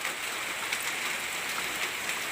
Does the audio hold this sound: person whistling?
no